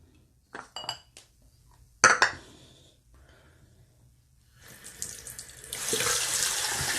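A few clinks and knocks of items in a sink, then a tap opens and water runs steadily, getting louder toward the end.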